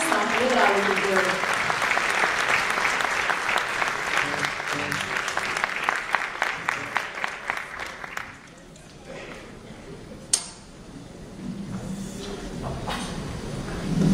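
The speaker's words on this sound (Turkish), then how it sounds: "güçlü alkışlarımızla sahneye davet ediyorum" Concert audience welcomes performers to the stage with strong applause, heard as dense, loud clapping for about eight seconds that thins into scattered claps, followed by a quieter room with a sharp knock and some faint talk.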